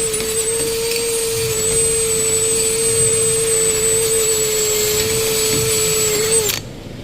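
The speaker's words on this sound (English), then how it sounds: "So I like to sometimes bring in my wire wheel" Power-drill-driven wire wheel scrubbing a wheel hub face, a loud steady high whine with constant grinding for several seconds that stops abruptly near the end.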